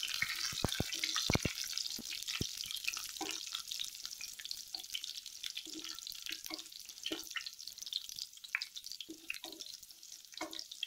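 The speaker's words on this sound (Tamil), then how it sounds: "சேர்த்துட்டு இதை லேசாக அப்படியே வறுத்து விடுங்க." Crushed garlic and curry leaves fry in hot oil for a tomato thokku, a steady close sizzle with scattered crackles and a few sharp utensil knocks early on, no voices over it.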